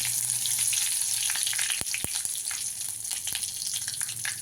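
Curry leaves drop into hot oil already crackling with cumin and mustard seeds for a guava and chili dish, bringing a loud close hiss of sizzling, sharp pops and spits, and a little stirring.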